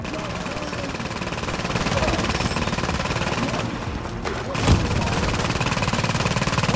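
Rapid turret machine-gun fire in The Division at the Hudson refugee camp, a steady stuttering rattle over a noisy combat scene, with a sharper burst partway through.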